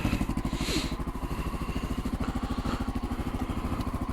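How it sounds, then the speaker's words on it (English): A Honda XR650L motorcycle with its stock exhaust idles close by, giving a steady, even run of rapid thumping pulses with a light mechanical clatter and no talk. "what the stock exhaust sounds like in comparison to the other two"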